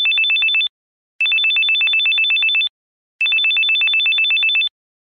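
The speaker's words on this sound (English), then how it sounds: "Ask your friend to give a ring on his cell phone from another cell phone." A cell phone ringtone sounding from inside a glass tumbler during a classroom sound experiment: three bursts of rapid, trilling electronic beeps separated by short silences, clear and close with no talking.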